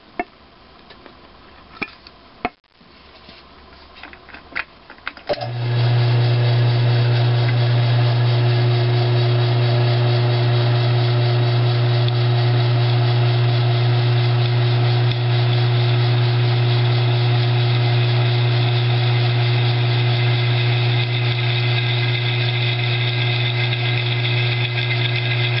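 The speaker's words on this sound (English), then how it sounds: "Let's drill one more." A drill boring holes through stacked quarter-inch-thick steel plates with a half-inch bit for a crankshaft concentricity test stand: a steady, loud, sustained motor drone with a strong low hum starts after a few seconds of clanks and lasts to the end.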